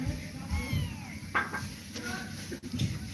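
A few soft, high kitten mews come and go in a quiet room, with some murmured human voice and light clinks nearby.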